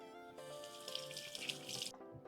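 Tap water runs into a sink while a turkey is rinsed for brining, a steady splashing hiss that starts after a brief pause and stops abruptly near the end.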